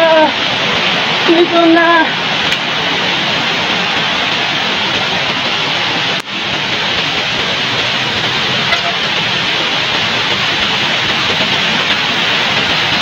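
Tinuy-an Falls in Bislig, Surigao del Sur, roars as a steady, loud, broad rush of falling water close by, with a brief spoken remark near the start.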